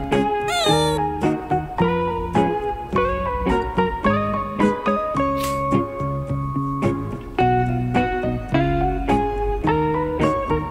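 A pet cat meows repeatedly at home: a run of clear, tonal mews in quick succession, fairly close and moderately loud, with short pauses between calls and no talking.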